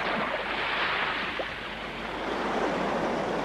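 Waves of the incoming tide wash in with a continuous broad rush of surf, steady and fairly close, mixed with some wind noise.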